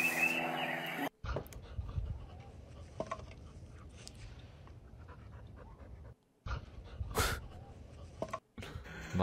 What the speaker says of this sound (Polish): Mądry piesek.